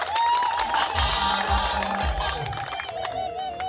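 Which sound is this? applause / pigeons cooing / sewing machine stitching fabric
applause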